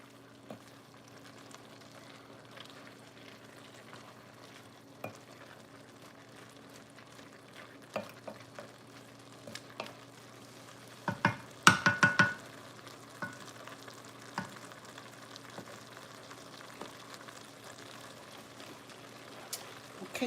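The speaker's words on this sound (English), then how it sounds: "y'all hear that sizzle?" Sausage and potatoes sizzle quietly in a pan, a low steady crackle with scattered pops and a brief burst of louder clatter midway.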